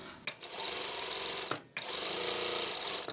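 Sewing machine running a regular straight stitch through a piece of fabric, a steady close mechanical whir that pauses twice briefly before resuming, with no talk.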